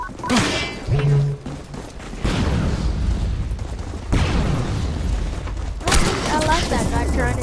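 Gunfire and booms in the online shooter Metro Conflict, with heavy thuds and shotgun blasts rumbling across the match while a player talks over the action.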